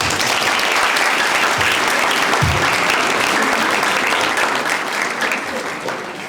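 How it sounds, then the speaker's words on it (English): Loud, sustained applause from a large audience at a Model United Nations closing ceremony, dense clapping that stays steady before easing slightly at the end. "please give a huge round of applause to Diego Lopez"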